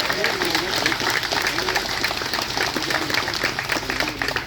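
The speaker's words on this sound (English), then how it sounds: "So we please all give the volunteers a big round of applause for helping every year." Audience applauding volunteers at the introduction to the Cheltenham Distinguished Gentlemen's Ride, a steady wash of clapping with crowd murmur and voices underneath, sustained for several seconds.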